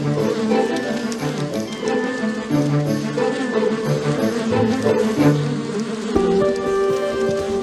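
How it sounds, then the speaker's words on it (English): Dense, steady buzzing of honeybees inside a hive during a waggle dance, a continuous droning hum with a shift in tone near the end, no voices heard. "This returning bee has just found a new source of nectar and is going to tell others in the hive"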